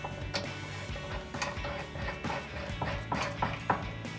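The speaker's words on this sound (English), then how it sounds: "we're going to tighten this down with a 19mm socket" A ratchet with a 19mm socket tightening lock nuts on a Jeep Gladiator rear steel bumper, a steady run of close metallic clicks in short strokes, moderately loud, no talking.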